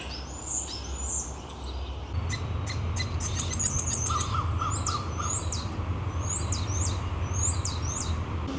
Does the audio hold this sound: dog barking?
no